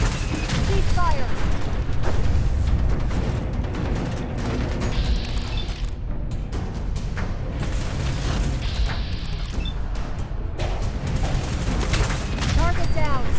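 Sustained gunfire and booming blasts in the Fallout 4 video game, loud and dense across the whole stretch, with shouted voices cutting in over the barrage.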